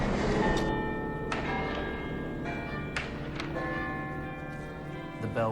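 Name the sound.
bell ringing from the top of the UT tower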